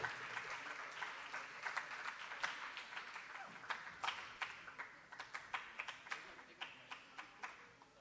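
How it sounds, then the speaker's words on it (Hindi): Applause from an audience at a school award distribution after an elocution competition in Ichalkaranji, greeting the student prize winners, heard as a steady patter of hand claps with sharper individual claps standing out near the end. "ज़ोरदार तालियों के साथ इन बच्चों की हौसला अफजाई की जाए।"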